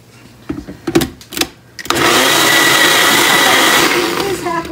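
A kitchen blender churns a drink with ice, starting abruptly after a few knocks and clatters and then running as a loud, steady whir that holds to the end.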